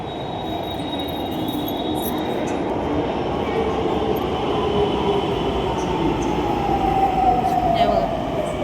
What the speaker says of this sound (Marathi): तर आता बसले इथं मेट्रो स्टेशनला.